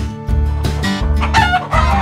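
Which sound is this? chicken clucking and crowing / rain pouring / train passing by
chicken clucking and crowing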